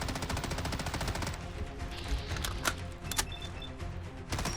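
Rapid bursts of SIG MCX Shrike automatic fire in the video game Fallout 4, sharp repeated shots in quick strings with brief pauses and scattered single cracks, fairly quiet overall.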